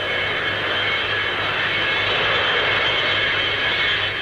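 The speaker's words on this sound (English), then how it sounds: "This amazing aircraft can lower its nose to give better landing visibility and uses tail brake parachutes to shorten the run in." Steady, loud roar of a 1950s aircraft flying at the Farnborough air show, a continuous broadband engine rumble with no pauses and no voices.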